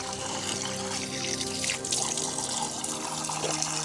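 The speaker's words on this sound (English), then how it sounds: "It's a sacred spring that has never stopped flowing." Spring water flows steadily from the sacred Chalice Well in Glastonbury, a continuous close trickling and splashing with no talk over it.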